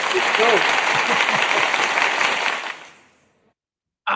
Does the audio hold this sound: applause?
yes